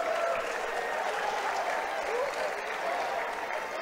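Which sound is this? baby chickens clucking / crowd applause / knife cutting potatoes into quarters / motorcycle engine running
crowd applause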